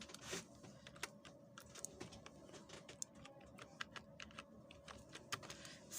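A first name is typed on a computer keyboard while filling in a Zoom account sign-up form: quiet, rapid, irregular clicks and key taps close by, with no voices.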